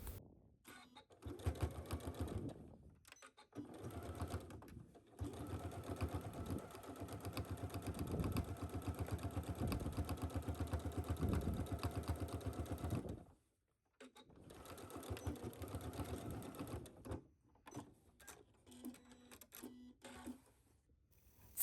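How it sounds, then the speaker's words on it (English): A sewing machine top stitches a 3/8 inch seam along a cargo skirt pocket flap, running in long steady bursts of stitching with short pauses between runs and a quieter stretch near the end. "you're going to press down your flap and you're going to top stitch this at 3/8"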